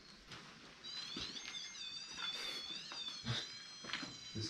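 A cat meows in a quiet room during a night paranormal investigation at the Villisca Ax Murder House, giving several drawn-out, rising and falling calls close by, with soft background rustle and no talk.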